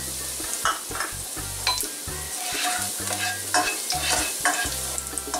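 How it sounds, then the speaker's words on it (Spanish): Minced garlic sizzles in a pan while a utensil stirs it in quick, irregular bursts of scraping and clinking over a steady frying hiss. "Tenemos que hacer que este ajo se dore bien doradito."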